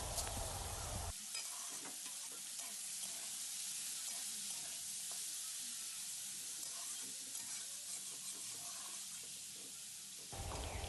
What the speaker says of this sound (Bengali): বিনস আর আলুগুলোকে ভালো করে ভেজে নেব।